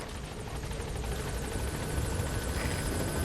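The helicopter Pequod arriving in the video game Metal Gear Solid V: Phantom Pain, a loud, dense, steady rotor and engine roar filling the short stretch without talk.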